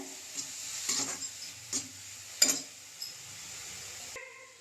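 Vegetables for a kothu chapathi mix sauté in a pan, with soft sizzling and several intermittent stirring scrapes heard close and fairly quiet, ending in a brief clunk.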